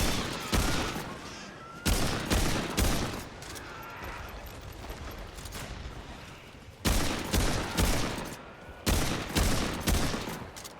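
Gunfire from the video game Remnant 2: loud bursts of rapid shots in several volleys, with quieter stretches of game ambience and scattered shots between them. No voices.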